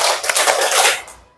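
Students in a classroom clap in unison through a patterned rhythm, a rapid run of sharp, close claps that blur together before fading out at the end.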